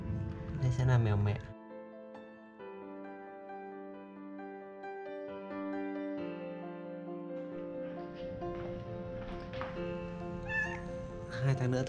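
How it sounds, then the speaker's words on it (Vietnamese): A mother cat meowing loudly and close, with drawn-out, wavering cries at the start and end, and a voice talking in the middle. "Đây sẽ là mèo mẹ."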